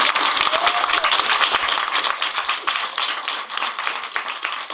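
Lively audience applause at a youth activism gathering in Macedonia, many hands clapping in a dense, loud burst that holds steady and eases slightly toward the end.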